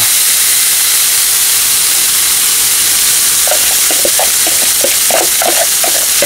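Steady loud hiss fills the clip, then bursts of crackling sizzle and popping begin about halfway through as finely chopped fat hits a hot cauldron (kazan).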